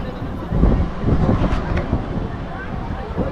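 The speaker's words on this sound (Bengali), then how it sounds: "দুর্দান্ত হাওয়া দিচ্ছে দারুণ লাগছে" Strong wind gusts buffet the microphone at a riverside cremation ground, Nimtala in Kolkata, a steady low roar that swells and eases over a few seconds.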